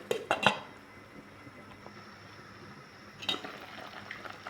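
A metal lid set down on a cooking pot of beef pata sinigang with mustard leaves, two quick clanks near the start and another soft clink a few seconds later, over a faint simmering hiss.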